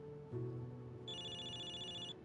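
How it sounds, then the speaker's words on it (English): In a movie theater scene from the Zenless Zone Zero video game, a phone rings with a bright electronic trill for about a second, heard faintly under a low steady ambient hum. "I can hear someone's phone ringing from the back."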